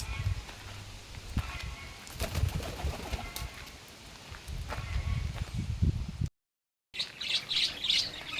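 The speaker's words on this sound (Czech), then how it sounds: "Tento druh holuba je český moravský štros." Czech Moravian Strasser pigeons at a zoo aviary, soft cooing and chirping mixed with busy background chatter of visitors and footsteps, fairly close.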